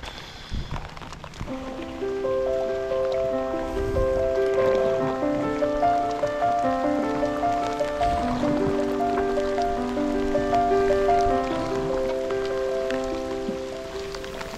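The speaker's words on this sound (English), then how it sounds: "As the rain clattered down" Heavy rain pours down steadily throughout on the River Waveney, with a melodic instrumental tune playing over the dense patter.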